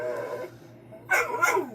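A deaf dog barks indoors late at night, giving two or three short, sharp yaps near the end, with a faint muffled sound before them and a steady low hum throughout.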